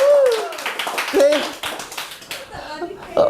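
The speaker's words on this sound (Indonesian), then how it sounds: "Tepuk tangan buat Martin Tabeki." An audience at a comedy show claps in scattered, uneven bursts while people talk and laugh over it; a few high squeaky whistle-like tones cut through now and then.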